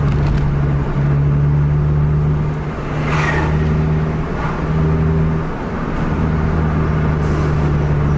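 Buses run on a busy highway, a steady loud engine drone with tonal hum and passing traffic swells, no voices.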